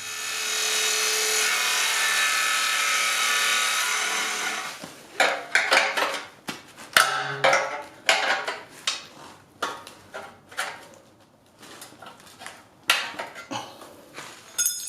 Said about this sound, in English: So jigsaw this open and get that bolted up.